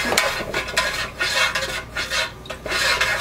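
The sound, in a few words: stirring icing for piping candles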